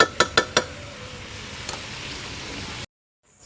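A dish is fried and stirred with spices in a pan. A few quick metallic spoon clinks come first, then a steady low sizzle, before the sound cuts off abruptly. No one speaks.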